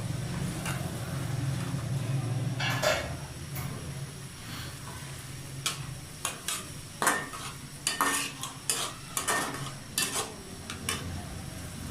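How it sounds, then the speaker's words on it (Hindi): Ingredients being fried and stirred in a pan until golden brown for chicken achar gosht, with scraping and clinking of a utensil against the pan over a steady low sizzle, strokes growing sharper and more frequent toward the end. "और गोल्डन ब्राउन होने तक इसे अच्छी तरह भूनेंगे।"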